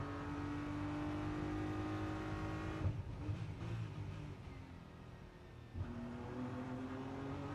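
A racing car's engine roars steadily during the Macau Grand Prix, rising in pitch as it accelerates hard out of a hairpin, briefly dipping during a gear change before climbing again, loud and close.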